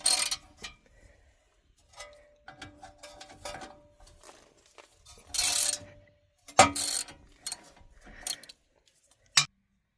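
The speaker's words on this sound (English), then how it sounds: "Now I'm going to take the 3 bolts off of the backing plate to remove it." Ratchet work on the front wheel hub of a 2011 Ford Expedition at a desert campsite, loosening the three backing plate bolts: scattered bursts of ratcheting clicks and metallic clatter, with quiet gaps between them, close up.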